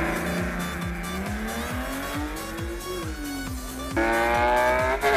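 Mercedes E-Class with a 3.5-litre engine launches at a drag race start, engine revving hard and close with rhythmic gear pulses and climbing pitch, tires squealing, a second surge of loud engine noise near the end.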